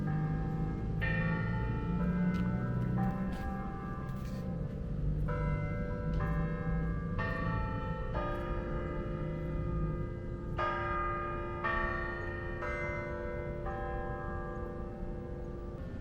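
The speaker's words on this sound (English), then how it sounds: "The bell tower won't stop going." Bells in a university bell tower ring steadily on a campus quad, each strike sustained and overlapping into a continuous loud peal that carries through the whole stretch.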